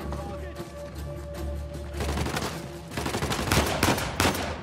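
Gunshots sound in a rapid burst, with sharp repeated cracks over a low rumble of game sound, during a firefight in the action-adventure video game Uncharted: The Lost Legacy.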